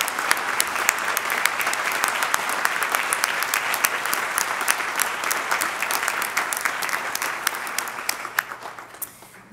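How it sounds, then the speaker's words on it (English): Inauguration audience applauds Dennis Murphy with a long, steady round of clapping from a large crowd, sustained at an even level and tapering off at the end. "he deserves a big round of applause."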